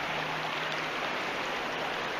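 Water flowing in Lower Coker Creek, running high, makes a steady, close, broadband rush with no pauses and no voices.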